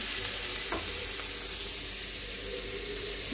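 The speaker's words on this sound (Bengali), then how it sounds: "পেঁয়াজ, রসুন, সরষা তেল দিয়ে হালকা ভেজে নেব" Onion and garlic fry lightly in mustard oil for a jackfruit-seed mash, producing a dense, unbroken crackling sizzle that stays loud and even throughout, close up with no speech.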